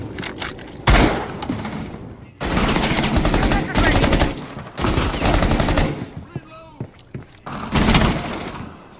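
Rapid automatic gunfire bursts in a competitive Rainbow Six Siege match, loud and close, separated by short gaps, with breaking glass and impact sounds mixed in.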